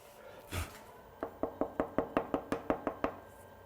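Trimming tool shaving a ceramic pot on the wheel, a quiet run of about ten evenly spaced tapping scrapes following one softer earlier scrape.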